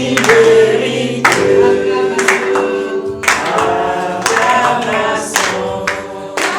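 A church congregation claps in rhythmic bursts during Sunday worship in Treichville, sharp claps landing over singing and music that carries throughout.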